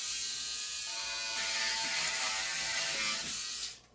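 An electric shaver buzzes steadily as it slices through packing tape on a heavy PlayStation 5 shipping box, a close, continuous whirring with a gritty ratcheting texture that cuts off abruptly at the end.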